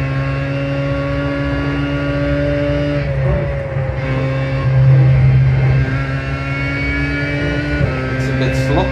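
A race car engine drones steadily during a lap in the iRacing sim racing game, its pitch rising and dipping with gear and throttle changes, loud and close throughout.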